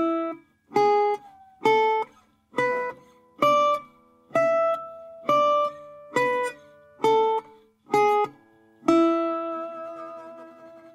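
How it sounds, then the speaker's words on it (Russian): Slide guitar sounding a slide scale: about ten separate plucked notes at a steady, even pace with sliding pitch, each ringing briefly, ending on a longer sustained note, clear and close with no talking. "Но чаще всего используется звукоряд, условно получивший название слайдовая гамма."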